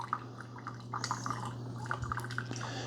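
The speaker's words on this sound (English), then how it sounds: "Now we've got some water coming out." Water from a Keurig K-Slim single-serve coffee maker during a rinse, faint irregular drips and trickles over a steady low electrical hum from the machine.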